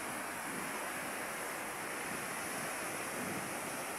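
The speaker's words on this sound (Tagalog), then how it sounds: "Sobrang lalaki na mga alon" Large ocean waves off Negros during Typhoon Kristine make a loud, continuous roar of surf, a dense wash of rushing water with no breaks.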